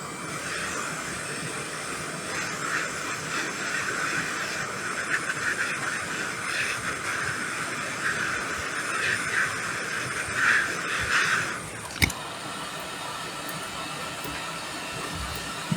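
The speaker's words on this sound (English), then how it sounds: "I think we'll go the hot air." A hot air rework station blows at 420 degrees with 30% airflow onto an Acer laptop power jack, a steady close hiss running throughout with a brief click near the end.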